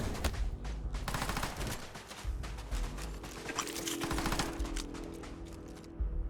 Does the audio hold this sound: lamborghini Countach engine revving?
no